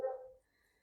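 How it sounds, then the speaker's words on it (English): A neighbor's dog gives a single loud bark right at the start, which quickly fades into quiet. "neighbor's dog is barking very loudly"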